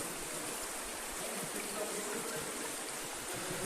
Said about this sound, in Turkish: Şuradan su akıyor gidiyor.